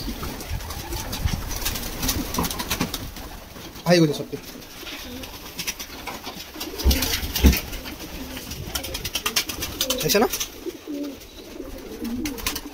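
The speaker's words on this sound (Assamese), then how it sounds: "তো পাৰকেইটা কেনেকৈ মই খাব দিওঁ, এয়া হ'ল পাৰৰ খাব দিয়াৰ ব্যৱস্থা।" Domestic fancy pigeons coo repeatedly at a pigeon farm in Assam during feeding time, soft throaty calls rising and falling close by with occasional wing flutters, while a person talks over them.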